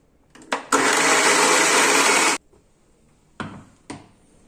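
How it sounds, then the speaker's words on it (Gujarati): Mixer grinder jar whirring for about a second and a half as milk blends into Oreo cake batter, a loud steady motor roar that stops abruptly, bracketed by clicks and knocks of the jar and lid. "આપણે તેને ફરીથી મિક્સી જારમાં ફેરવી લેશું"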